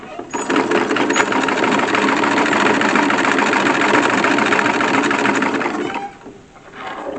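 Close, loud whirring of a sewing machine stitching a casing onto a corset seam, running steadily for about six seconds before winding down, no talking.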